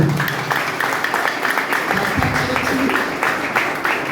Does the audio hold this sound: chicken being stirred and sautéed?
no